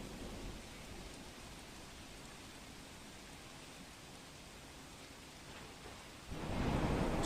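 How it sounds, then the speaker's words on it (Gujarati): Heavy rainfall pours down in Surat, Gujarat, a steady dense hiss of rain that surges louder and closer near the end, with no voices. "શહેરમાં ધોધમાર વરસાદ વરસી રહ્યો છે."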